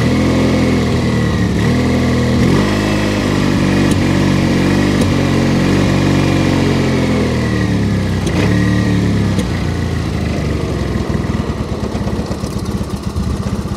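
A cold, carbureted, liquid-cooled Honda engine with a timing belt runs loud and close, its droning hum rising and falling in an uneven surge before settling into a rougher, choppier idle.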